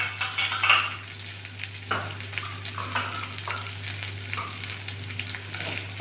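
Sugar is stirred into chicken kabuli pulao cooking in a pan, with a steady sizzle and frying hiss under repeated scraping strokes of a spoon against the pot, close and fairly clear, with no talking.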